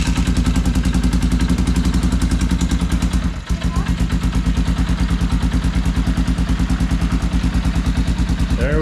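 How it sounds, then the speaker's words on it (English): A quad ATV engine runs steadily with a fast, even low-pitched firing pulse; a brief dip and thump near the middle comes as it catches, then it keeps chugging loudly and close throughout. "Let's fire this thing up with the starter."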